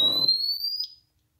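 A thin, steady high electronic beep from a pulse oximeter sounds once, close and fairly faint, ringing on for about a second over a short burst of rustling noise.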